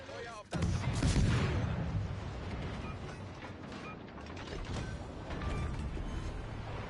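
Destroyer guns firing at a target in a naval video game: a sharp booming report followed by a sustained rumbling, clattering roll that fades slightly and then swells again, with no talk over it.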